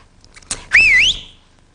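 A single rising and falling whistled tune, loud and clear for about half a second, preceded by a short thump, alone without talk.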